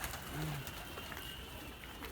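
A pigeon, a tumbler breed, gives a low, throaty coo up close early on, against a steady background hiss of outdoor noise.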